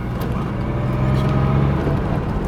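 A 1980 Porsche 911SC Targa drives along with a steady, close engine drone and road rumble, its low note rising slightly as it pulls through the gears, with no voices present.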